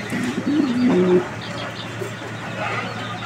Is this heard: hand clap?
no